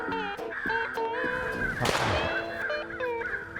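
A crow calls during a hunting outing, harsh caws mixed with other bird calls and a sharp burst partway through, fairly close and continuous.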